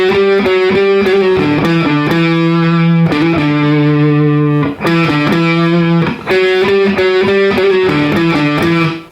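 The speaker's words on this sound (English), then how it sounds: "You put that entire riff together and it should sound like this." Distorted electric guitar plays a full riff, loud and continuous, with sustained power chords and choppy rhythmic stabs, two brief dips in the middle, no talking.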